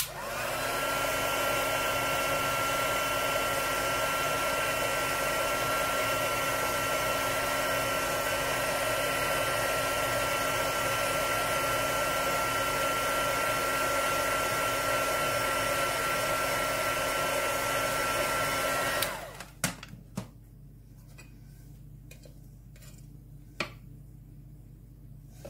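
A hot-air heat tool blows steadily and loudly on a sheet of shrink plastic, a continuous rushing whir that cuts off abruptly, leaving quiet room tone with a few faint clicks and taps.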